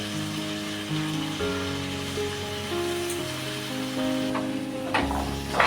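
Potato and ivy gourd sautéing in a pan for vegetable biryani, a soft steady sizzle sitting under sustained background music that changes notes, with a brief louder stir near the end.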